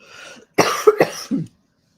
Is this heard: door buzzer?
no